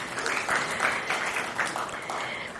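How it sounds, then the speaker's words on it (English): Audience applause at the Indian Law & AI Congress 2026, a steady wash of clapping from a seated conference crowd welcoming a speaker, moderately loud and sustained throughout without talk. "Please welcome Mr. Sarvesh Kumar with a huge round of applause"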